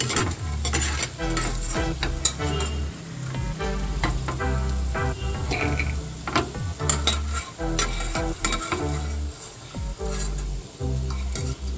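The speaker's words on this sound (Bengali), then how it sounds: "বাদামগুলো ভাজা হয়ে গেছে।" Peanuts fry in a pan for rava upma, with loud, busy sizzling and rhythmic scraping and rattling as a spoon turns them. No one speaks.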